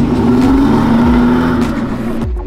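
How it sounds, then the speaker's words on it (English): An Aston Martin Vanquish Zagato coupe engine revs loudly and close, its steady droning tone rising and falling through several pitch sweeps before cutting off near the end. "Aston Martin Vanquish Zagato, a car produced by Aston Martin in association with Italian coach builder Zagato"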